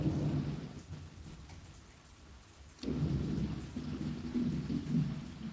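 Thunder rumbles heavily over steady rain in a downtown neighborhood near Duval Street, a low rolling boom swelling midway and continuing under the downpour, with no talking.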